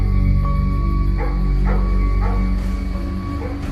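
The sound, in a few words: dogs barking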